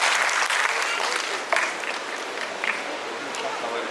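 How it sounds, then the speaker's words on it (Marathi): Loud, sustained clapping from an audience at a dance and fitness studio's Ganpati dance show, a dense continuous patter with a few sharper claps standing out. "तर जोरदार सगळ्या पालकांसाठी टाळ्या वाजवत आपण आणि आपली एनर्जी हाय ठेवूयात."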